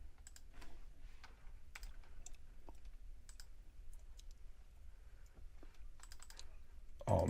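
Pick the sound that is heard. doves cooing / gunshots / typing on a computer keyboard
typing on a computer keyboard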